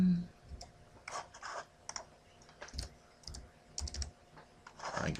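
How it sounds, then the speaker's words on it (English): Bursts of quiet clicking keystrokes on a computer keyboard, typed in short irregular runs with pauses between, close and soft in a quiet room. "So I'm going to type in here his name."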